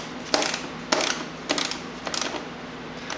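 Several short ratcheting clicks in separate bursts as a 10 mm bolt is hand-tightened on the windshield brace of a Suzuki Burgman 400 scooter, close and fairly quiet with pauses between turns.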